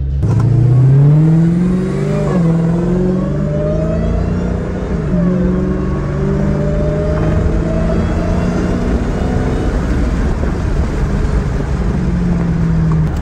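A 700-horsepower Dodge Challenger Hellcat accelerating through Las Vegas streets, its engine note rising through repeated gear pulls with a deep, loud rumble heard from inside the car.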